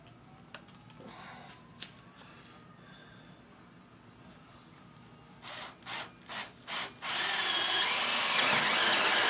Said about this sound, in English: I got these hole saw bits from Harbor Freight. They were on sale and I haven't used them yet, so we're going to see how they do